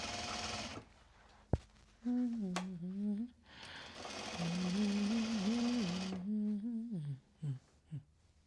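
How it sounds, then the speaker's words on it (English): A sewing machine winds a bobbin in two bursts of bright, fast whirring, with a voice humming or murmuring in the pauses and a sharp click between them. "I'll get the next bobbin wound"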